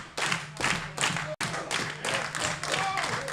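A wrestling crowd at a live show claps in steady rhythmic bursts, with cheering and crowd noise, moderately distant and fairly loud.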